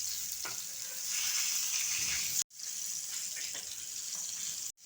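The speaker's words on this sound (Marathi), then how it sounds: "आता हे तेलामध्ये एक एक असं मासं तळून घेऊया बाजूने फ्राय झालेलं आहे आता दुसऱ्या बाजूने आपण फ्राय करू" Bangda mackerel fries in hot oil in a pan, a loud, close, continuous hiss and crackle. It cuts out briefly twice, and no one speaks.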